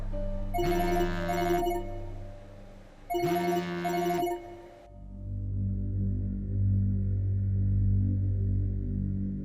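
A telephone rings in a drama scene, two electronic ringtone bursts close and loud, then a low ambient hum takes over as the ringing stops.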